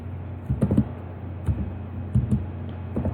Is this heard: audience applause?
no